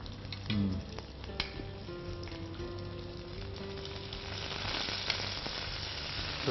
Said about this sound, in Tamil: சின்ன வெங்காயமும் பூண்டும் நல்லா ஃப்ரை ஆகிட்டுருக்கு